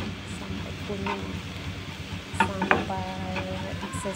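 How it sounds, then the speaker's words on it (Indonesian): Minced garlic fries in a little oil with a steady soft sizzle while a spoon stirs it, giving a few light scrapes and clinks against the pan near the end. "Minyaknya sedikit aja, bawang putihnya dicincang-cincang. Kita goreng-goreng sampai kuning ya"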